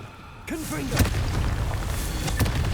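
A Confringo fire spell bursts in the Hogwarts Legacy video game, a loud booming blast with crackling rumble that follows a brief spoken cue, then a second thud a moment later.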